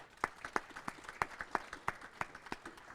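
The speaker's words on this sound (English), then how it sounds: "how about a round of applause for them?" At a county budget meeting a small group claps in a sparse, rhythmic pattern, distinct individual claps standing out against the room, fairly quiet and brief, with no speech over it.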